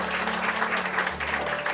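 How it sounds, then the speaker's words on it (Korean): A roomful of people clapping steadily at an award ceremony during the tenth-anniversary Rare Disease Day commemoration, with a short, even wash of applause and no voices. "박수 부탁드리겠습니다"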